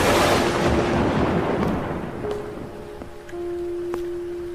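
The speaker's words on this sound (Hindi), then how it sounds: "बारिश अब ज्यादा बढ़ गई थी और बिजली भी बहुत कड़क रही थी।" Heavy rain pours down with a loud rumble of thunder at the start that rolls away and fades, leaving a steady hiss of rainfall; a few thin, sustained tones ring faintly later, with no voices.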